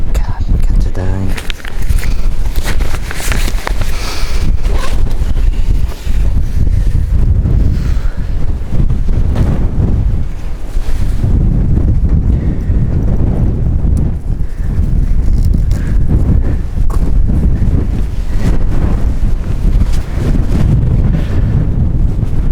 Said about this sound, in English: the wind's really coming in this way.